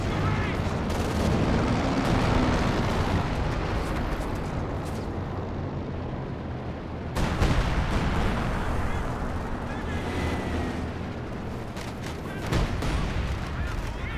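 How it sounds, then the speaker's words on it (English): Artillery fire from a leFH howitzer in Company of Heroes 2, heavy booming blasts rolling continuously through dense battle noise, with a sharp burst near the middle and talk faintly beneath the din. "Looks like the LUFH shooting in this area actually clears out a mine."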